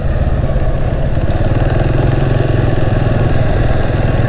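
A scooter engine idles loudly and steadily close by, with a constant buzzing, clattery drone and no talking.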